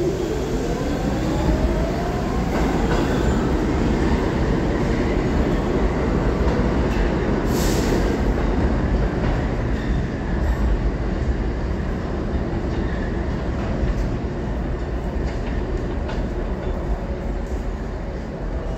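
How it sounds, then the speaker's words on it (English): An uptown C train on the New York subway rolls into 34th Street–Penn Station with a steady loud rumble of wheels on rails, a brief squeal partway through, and a sustained roar as it arrives. "Uptown C train approaching 34th Street."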